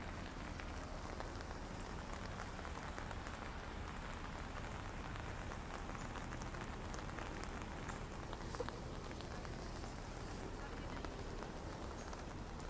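Steady heavy rain falls continuously on hard surfaces at a bank after a drive-thru overhang collapse, a dense unbroken wash of patter with no pauses.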